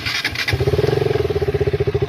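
A KTM motorcycle engine starts after a brief cranking burst, then settles into a steady, close, pulsing idle with rhythmic low thumps.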